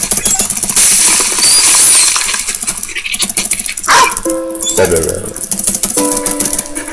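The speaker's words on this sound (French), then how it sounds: "Le chien." A dog barks in Valiant Hearts: The Great War, a few short barks in the middle amid dense, busy game sounds with chimes and rattling effects.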